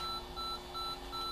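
A repeating electronic beep from the Super Monaco GP racing game on the ZX Spectrum, pulsing evenly about every third of a second over a steady low hum.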